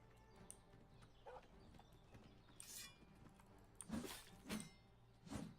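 In a video game, a horse walks along with a quiet rhythm of hoof clip-clops, a few sharper steps standing out near the end above faint background ambience.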